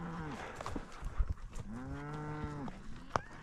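Cattle moo during a fall gather on the Nevada desert, with several long, drawn-out calls one after another, fairly close and clear over open-air background noise.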